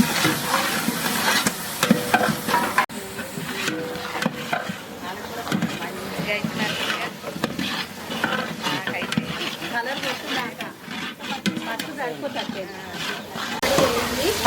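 Tamarind water is poured into boiling toor and chana dal in a large cooking pot and stirred, making sizzling, bubbling and scraping sounds at close range while people talk over it.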